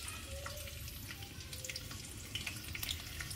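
Whole garlic cloves fry in a pan in a Bengali mushroom curry preparation, giving a steady close sizzle with faint clinks and water-like crackle, no talking.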